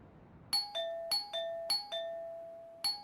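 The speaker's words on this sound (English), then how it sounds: "someone rang his doorbell" A doorbell chimes at night in a series of clear two-note ding-dong strikes, each bright tone ringing briefly before the next, fairly close and alone with no talking.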